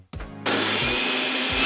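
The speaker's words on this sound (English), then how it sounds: "I've even got a remote for my blender." A countertop blender switches on with a short starting whir, then runs at a loud, steady high-speed roar that stays constant to the end, with no voices.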